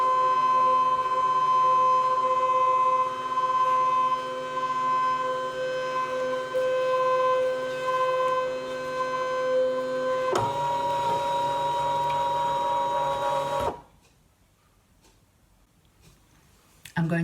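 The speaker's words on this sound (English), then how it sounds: "I'm going to choose scan and direct cut from the machine and say" Brother ScanNCut cutting machine scanning a design, a loud steady mechanical hum with high tonal whines that shifts pitch partway through, then stops abruptly and leaves near silence.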